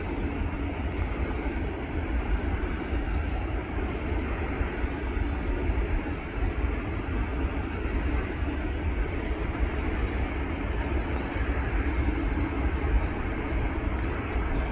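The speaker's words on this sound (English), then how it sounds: "There's an EasyJet on its way out." An EasyJet airliner departs the airport, a continuous low broadband rumble that stays steady and fairly loud from start to finish with no voices.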